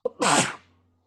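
A single person sneezes once, close and loud, with a short sharp intake before the burst and a quick fade afterward.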